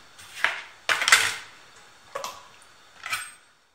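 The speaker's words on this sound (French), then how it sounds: "je suis en train d'hacher le persil et la coriandre le plus finement possible" Parsley and coriander are chopped with a knife on a board, giving four sharp, separate knocks spread over a few seconds with quiet gaps between them.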